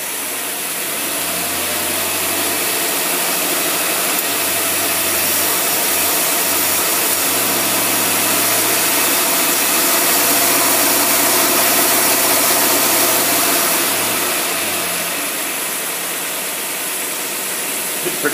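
Car engine fitted with a Martin Holley single-barrel carburetor hauls a trailer with a flat tire, a steady loud mid-range drone that holds for most of the stretch and eases near the end, with no talk.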